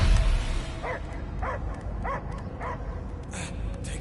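Dog barking in the Guardians of the Galaxy video game, a series of about six evenly spaced mid-distance barks over a steady low game ambience.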